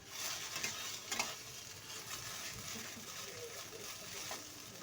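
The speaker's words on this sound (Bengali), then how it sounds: "আগে থেকে একটা আলু সেদ্ধ করে রেখেছিলাম বড় সাইজের আলু সেটাকে আমি তেলের উপর একটু কষে নেব" Boiled large potato sautés in hot oil, a soft continuous sizzle with light stirring scrapes and a few clicks, heard up close and fairly quiet.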